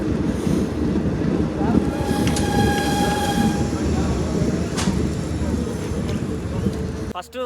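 A passenger train on the Srinagar to Banihal line in Kashmir rumbles and squeals as it slows into its first station, with loud low rolling noise, brake whine tones and a sharp clank near the end.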